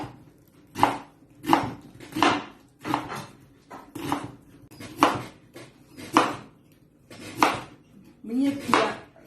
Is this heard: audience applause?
no